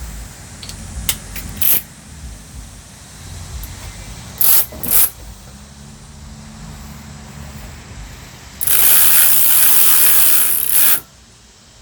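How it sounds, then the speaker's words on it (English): A ratchet with an 8mm socket working on a Kubota ZD28 mower during a radiator cleaning repair, giving short bursts of clicking, then a longer loud stretch of rapid ratcheting near the end, with no talk. "I can easily do that with the 8mm socket"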